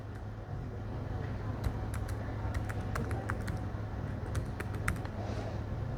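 Keys tapped on a computer keyboard while a password is entered, a scattered run of light clicks over a steady low hum of background noise.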